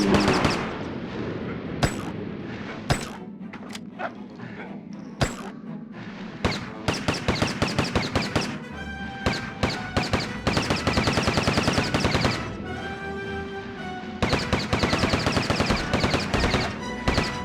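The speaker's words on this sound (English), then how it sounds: "you can't shoot and move at the same time with this gun" Gunfire from a gun in The Lost World: Jurassic Park on PS1 crackles in loud sharp shots, first a few scattered blasts, then long rapid volleys with brief pauses between them.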